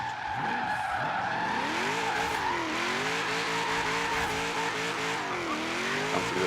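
A car in a racing game qualifying session slides in a sustained drift, with continuous tire squeal bending in pitch over a loud, steady engine roar.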